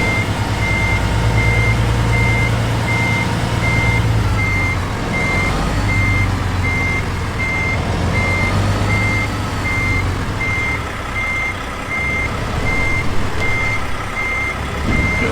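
A truck reversing in American Truck Simulator, with evenly spaced electronic backup beeps repeating steadily over a loud, constant diesel engine rumble.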